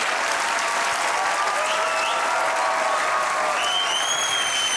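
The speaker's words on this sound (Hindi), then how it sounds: "थोड़ी तालियां बाकी प्रोग्राम के लिए बचाएं आप" Studio audience at a comedy talk show claps loudly and densely, a steady roar of applause with a few whistles riding over it.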